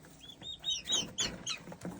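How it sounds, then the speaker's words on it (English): Young farm turkeys at a feeder, giving a run of short high chirping calls and peeps that overlap in quick bursts, fairly close, with no talking. "There's the turkeys."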